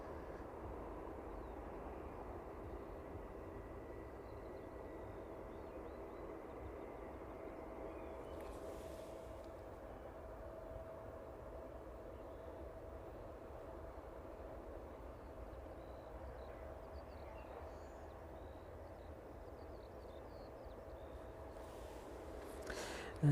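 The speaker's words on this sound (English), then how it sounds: "We'll see where the Swift ATR makes it to this evening. That one just passing over the runway threshold." A Swift ATR turboprop passes over the runway threshold at East Midlands Airport as a steady, faint, distant engine drone that holds evenly throughout.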